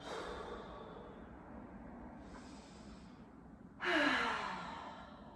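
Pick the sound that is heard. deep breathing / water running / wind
deep breathing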